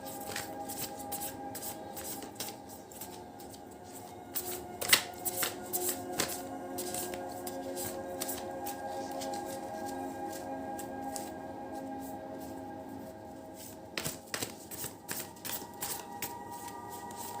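Tarot cards are shuffled by hand in repeated soft riffling bursts, quiet and close, with brief louder flicks.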